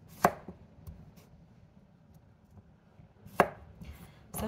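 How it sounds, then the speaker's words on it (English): A knife chops through organic English cucumbers on a cutting board, two sharp, close cuts a few seconds apart with a third starting at the end, over quiet room tone. "I'm just going to cut them into quarters"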